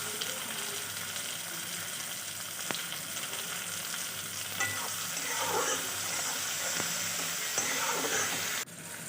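Chopped tomatoes with salt sizzling in a pan as the base for mango chicken, a steady close frying hiss with occasional stirring clicks and scrapes throughout.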